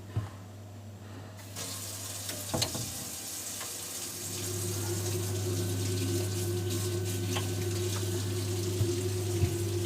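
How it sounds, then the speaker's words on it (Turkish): Hot water runs from a household tap fed by a Baymak combi boiler, a steady close rushing stream with a low hum beneath, growing louder after a few seconds. "Sıcak suyumuzu açıyoruz."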